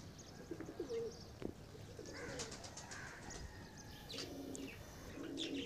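Pigeons coo in soft repeated low calls at a moderate distance, mixed with light chirps from other birds and a brief wing flap, over a faint outdoor background.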